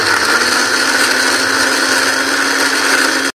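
A kitchen mixer grinder whirs loudly and steadily as it grinds ginger and garlic into paste, a dense continuous buzz that stops abruptly at the end.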